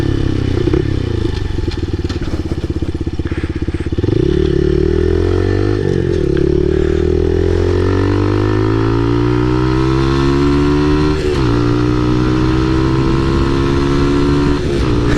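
A motorcycle ridden in 5th gear, picked up close by a helmet-mounted mic, gives a loud, continuous engine drone that climbs in pitch as it gains speed, with a gear change early on and steady wind rush.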